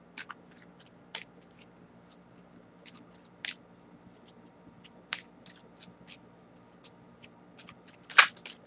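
Soft riffling and papery shuffling of tarot cards, with a few sharper snaps and a louder flick near the end, fairly close and otherwise quiet.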